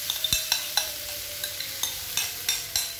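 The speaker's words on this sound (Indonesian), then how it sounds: "Tinggal kita oseng-oseng atau kita tumis." Tofu stir-fried in a little oil in a pan, with a spatula scraping in an even, repeated rhythm over a light, continuous sizzle.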